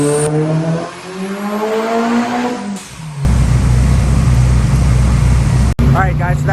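A Holset-turbocharged Mitsubishi Eclipse GSX making a dyno pull, the engine climbing steadily in pitch, briefly easing, then roaring into a loud, dense rumbling blast with a sharp cutoff near the end, heard up close.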